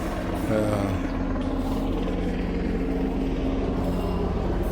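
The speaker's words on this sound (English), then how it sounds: "That's like an army helicopter. That's a military helicopter." A military army helicopter flies overhead near a small beach in Cebu, Philippines, its low, continuous rotor and engine drone steady and moderately loud over surf and wind.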